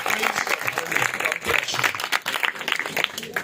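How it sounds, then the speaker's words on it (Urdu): A worship congregation claps loudly in a dense, continuous burst while a voice talks over the applause. "ذرا زوردار تالیاں خدا کے روح القدس کے لیے، زوردار تالیاں"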